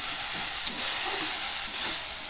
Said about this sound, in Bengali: এরপর একটু সবজিটাকে ঘেঁটে দিচ্ছি